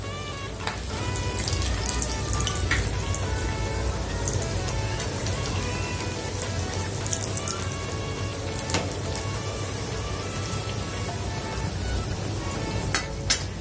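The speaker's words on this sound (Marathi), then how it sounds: "हे छान तळून घेते।" Ulta vada pav frying in hot oil, a steady dense sizzle with scattered pops and crackles, continuous and fairly close throughout.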